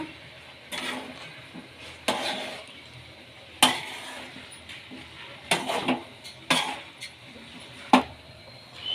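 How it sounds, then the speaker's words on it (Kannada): Tofu bhurji being mixed in a pan, with a utensil scraping and knocking against the metal in irregular bursts over a quiet background and no voices. "ಈಗ ಇದನ್ನ ಮೆತ್ತಿಗೆ ಮಿಕ್ಸ್ ಮಾಡ್ಕೊಳ್ಳೋಣ"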